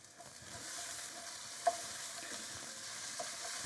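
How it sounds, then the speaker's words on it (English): Ginger and garlic frying in a pan for a Chettinad chicken curry, a faint, steady sizzle with a couple of small stirring clicks. "We add the ginger and garlic."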